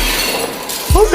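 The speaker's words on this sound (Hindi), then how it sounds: "ये तो ग्लास टूटा हुआ है। ये कैसे यहाँ पर टूट गया?" A drinking glass falls and shatters inside a house at night: a short, sharp crash near the end, with a voice exclaiming just before and over it.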